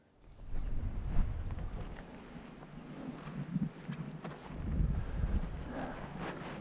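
Wind buffets a microphone outdoors at a paragliding launch site, a steady low rumbling roar that swells and gusts throughout, with faint rustling beneath.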